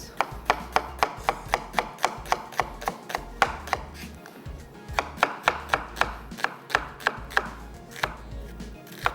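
A large onion is finely sliced with a knife on a cutting board, giving a steady run of about twenty crisp, close, evenly spaced chops with light rubbing between strokes. No one speaks.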